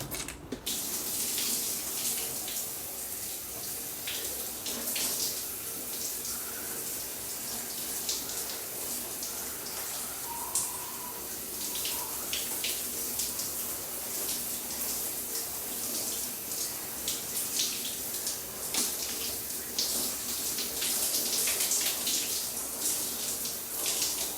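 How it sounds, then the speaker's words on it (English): A shower runs steadily at close range, a constant hissing spray of water with scattered splashes and drips throughout, no voices. "I'm gonna take you guys into the shower."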